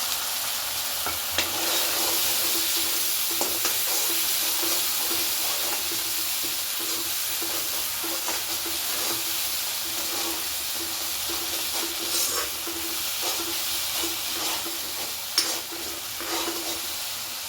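Ground spice paste frying in a hot pan, giving a constant bright sizzle and hiss with regular scraping strokes of a spoon stirring it, close and steady throughout.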